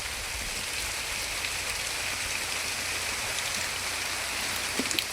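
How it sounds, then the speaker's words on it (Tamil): Heavy rain pours steadily in the hills beside a cave, a dense continuous hiss of drops on rock and ground with no letup, with a few closer drips and splashes near the end. "மழை பெஞ்சுக்கு இருக்கு, நல்ல மழை பெஞ்சுக்கு."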